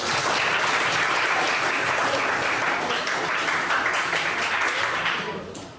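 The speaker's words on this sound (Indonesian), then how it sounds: "Tepuk tangan untuk kita." Sustained, dense applause from a classroom group, steady and close, tapering off slightly at the very end.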